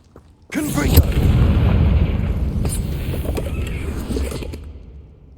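A Confringo fire spell bursts in Hogwarts Legacy during a fight with a giant spider, a loud booming blast that rolls on as a dense rumbling roar for several seconds after a sharp onset.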